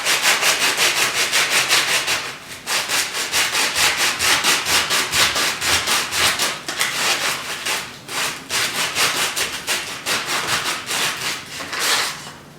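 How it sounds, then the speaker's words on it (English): Steady back-and-forth rasp of sandpaper smoothing the edges of a wooden name plate, rhythmic strokes repeating quickly, close and loud, with a brief pause midway. "Some paper, sanding paper, and I'm just gonna put it on top and just go like that."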